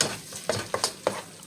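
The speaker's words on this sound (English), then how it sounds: "those eggs are frying up nicely" Eggs and rice frying in a pan for fried rice, with a steady sizzle and several soft stirring scrapes recurring throughout.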